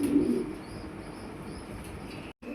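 Bombay satin beauty koka pigeons coo softly at close range in a loft where a parent feeds a newborn chick, a low murmuring burst at the start fading under steady background hiss.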